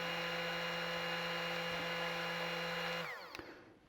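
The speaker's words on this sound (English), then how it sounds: "It made a lot more sense to use the immersion blender." An immersion blender whirring steadily as it mixes eggnog, a loud, close motor hum that holds at an even pitch for about three seconds before cutting off, followed by a few faint clinks.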